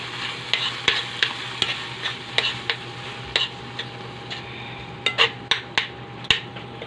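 Cabbage being stir-fried in a pan sizzles steadily while a utensil scrapes and clinks against the pan in irregular taps close by.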